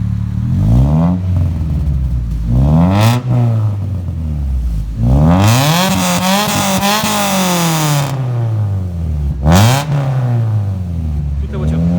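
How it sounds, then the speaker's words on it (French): A car engine revs repeatedly, each rev climbing sharply then dropping back, loud and close, with a sustained high-rev burst in the middle. "Allez, écoutons cette belle petite voiture."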